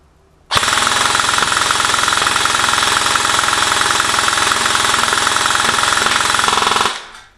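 ASG CAA M4 Proline AEG airsoft rifle firing one long, continuous full-auto burst of rapid mechanical clatter lasting about six seconds, loud and close, then stopping abruptly.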